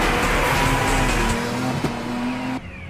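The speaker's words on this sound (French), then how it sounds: "Ne me dis pas que ton moteur Rotary a déjà donné son maximum." A rotary-engine race car in an anime mountain race screams at high revs, its engine tone held loud and steady, then cuts off abruptly near the end.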